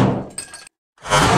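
A Beavercraft BSH1 knife with 1066 carbon steel breaks sharply under a gunshot during a destruction test, a brief crack and shattering burst, then a moment of silence before another loud impact.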